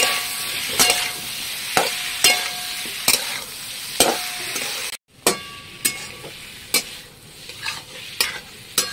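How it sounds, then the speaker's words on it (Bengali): Spices and salt frying in a pan for a vegetarian soybean dish, a constant sizzle punctuated by regular, crisp spatula scrapes roughly every half second to second, close and clear with no voices. "আবার একটু নাড়িয়ে দেবো। মশলা দিয়ে ভালো করে একটু কষিয়ে নিতে লাগবে।"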